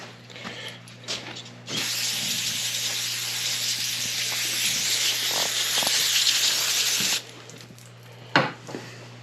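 A steady hiss of spray rinsing transmission parts runs for several seconds, loud and close, framed by a few clicks and clunks before and after.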